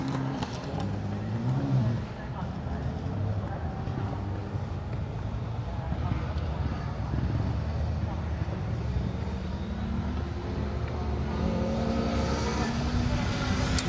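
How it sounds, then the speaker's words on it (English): A Subaru Impreza WRX rally car at a circuit rally stage drives onto gravel, its engine a steady, fairly distant drone lasting many seconds beneath a voice talking. "Andrew Mallison and Harry Woods, Subaru Impreza WRX, making their way onto the gravel"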